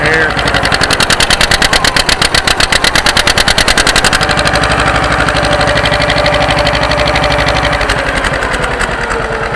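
John Deere 530 tractor engine running under load at about 1400 RPM wide open, a loud close steady pulsing chug that stays even throughout, with someone talking over it.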